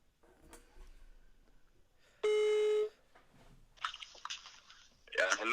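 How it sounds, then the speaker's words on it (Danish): A telephone call is dialed and rings, with faint handling noises first, then a single steady ringing tone about half a second long, followed by brighter noisy bursts toward the end. "Nu ringer vi til Robert for at få lidt svar ind."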